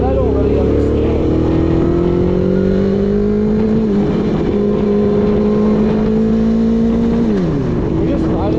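A 2003 Suzuki GSX-R 750 sport motorcycle engine drones steadily while riding, its pitch holding and then dropping as it shifts, loud and close with wind rush throughout.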